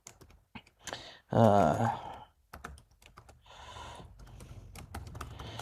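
Typing on a computer keyboard, with close, rapid, uneven keystroke clatter in short bursts, plus a brief word spoken over it and a louder voiced sound near the start.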